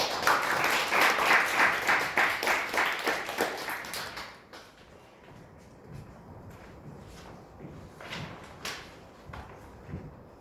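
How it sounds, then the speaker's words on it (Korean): An audience at a media management society concert applauds to welcome a speaker. Rhythmic clapping is strong for about four seconds and then fades into quiet room noise with a few scattered claps. "김정환 박사님 박수로 환영해 주십시오"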